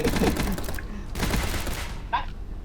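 Rapid gunfire from a Roblox zombie shooter game comes in dense, loud bursts of close shots and a few short pauses, mixed with game noise.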